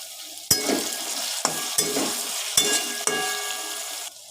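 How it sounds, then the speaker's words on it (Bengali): Chopped garlic and vegetables fry in a pan for veg Manchurian, a steady sizzle broken by about five sharp scrapes and clacks of stirring, close and without talk. "রসুনটাকেও সুন্দর করে ভাজা হয়ে গেছে"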